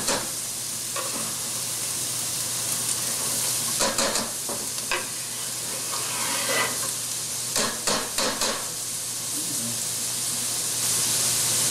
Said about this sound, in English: I'm just cooking the onions next to the meat for a little bit before I mix them together